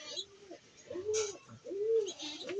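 Pigeons in a loft give repeated soft throaty coos, several calls rising and falling in a steady rhythm at close range, with faint background noise and some speech-like sounds in the room.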